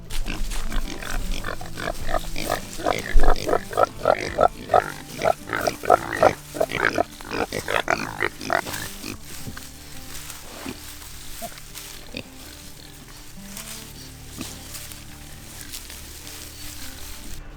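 Pigs grunt and snort in a rapid, loud burst of overlapping grunts, then settle into quieter occasional snuffles with farmyard background.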